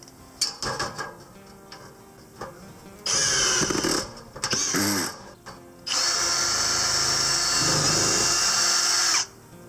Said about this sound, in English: I forgot I had to get the drill motor into this front hole.